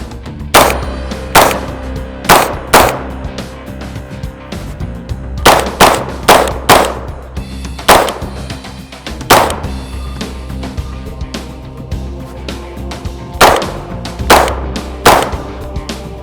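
Rapid gunfire from a Bushmaster 11.5-inch short-barreled rifle upper, about a dozen sharp loud reports fired singly and in quick pairs with short pauses, each with a brief ringing decay.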